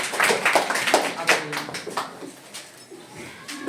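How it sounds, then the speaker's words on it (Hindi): Children in a classroom clap for a classmate, a quick uneven patter of small hands that fades out, with a teacher's voice speaking over it. "शाबाश, जोरदार ताली बच्चे के लिए बना"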